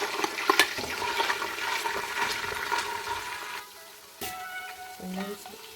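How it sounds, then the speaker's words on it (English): Hot cooking oil strained from a pot while making Nigerian party jollof rice, a sizzling, splashing pour that runs steadily, then thins out into a few faint drips and clinks. "so have our pot, and we're going to strain this oil"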